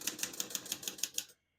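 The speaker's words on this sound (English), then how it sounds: "all the keys type nice and none of them skip or stick" Keys struck on a 1965 Olivetti Lettera 32 portable typewriter: about nine crisp, evenly spaced clacks in quick succession, close and clear, then silence.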